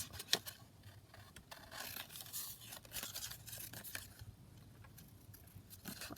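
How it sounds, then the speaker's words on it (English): Scissors snip small paper pieces out for a handmade card, giving quiet, close, irregular cuts and rustles over several seconds without any talking. "Cut those little bits out."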